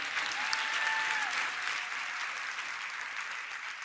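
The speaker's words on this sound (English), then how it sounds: "Can y'all clap it up for all the mothers and fathers?" An audience claps for the mothers and fathers at a business seminar, a sustained wash of applause that holds steady and tapers slightly toward the end, with a brief whistle-like tone early on.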